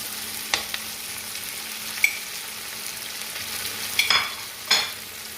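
Meatballs sizzle in a frying pan as tomato puree is added and stirred in. A soft, steady frying hiss runs throughout, broken by several sharper scrapes and clatters from the utensil against the pan.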